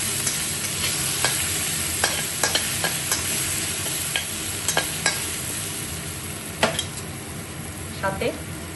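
Salted chicken sizzles in a pan while a utensil stirs it, steady frying hiss broken by repeated clicks and scrapes of the spoon against the pan, close up.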